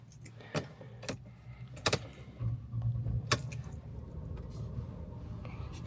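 Car keys for a 2012 Mercedes-Benz E200 CGI jangle in a few sharp metallic bursts, close by, followed by softer handling rustles and a low background hum.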